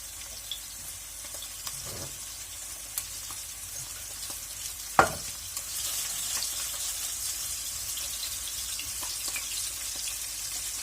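Potatoes fry quietly in a hot pan, a soft, steady hiss broken by a few light clinks and one sharper knock.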